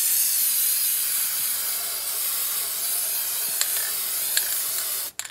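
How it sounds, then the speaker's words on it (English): A spray can hisses steadily at close range for several seconds, spraying a second coat of paint, then cuts off abruptly with a small clatter at the end. "Now I'm going to spray another coat on top."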